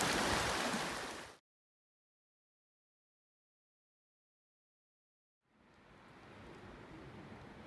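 A mountain stream in Colorado, the kind that holds brook trout, rushes with a steady, full hiss of flowing water that cuts out completely for a few seconds and then returns at a slightly lower level.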